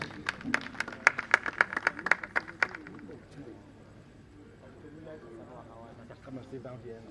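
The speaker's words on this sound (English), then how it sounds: "Let's give them a round of applause." A burst of applause with sharp claps lasts a few seconds, then fades into quieter room murmur and low talk.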